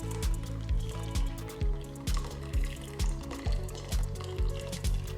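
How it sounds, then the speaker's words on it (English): Boiling water is poured into a bowl and a colander in a home kitchen, a run of splashing, gurgling pours in repeated short bursts, close and fairly loud. "I'm gonna pour some boiling water in here, and I'm gonna do the same inside the colander."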